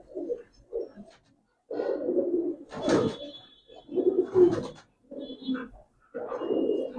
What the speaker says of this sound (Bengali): এটা হচ্ছে ওমান, ওস্তাদ সুলাইমানের কবুতর